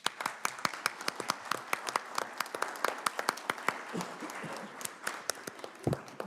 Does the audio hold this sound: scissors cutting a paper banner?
no